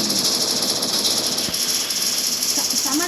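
Steady video-game vehicle engine drone with hiss, loud and continuous, with faint speech underneath.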